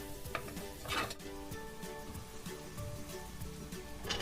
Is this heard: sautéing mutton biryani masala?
yes